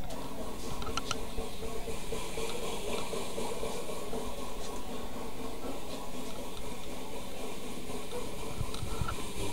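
A magnetic motor generator runs after being switched on, giving a steady, even hissing whir that holds level and fairly quiet for the whole stretch, with faint clicks near the start.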